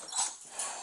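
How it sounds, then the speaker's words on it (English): Malnourished dogs found in a house, heard as a faint, brief whimpering yip or two, under a second long, with no talking. "More dogs."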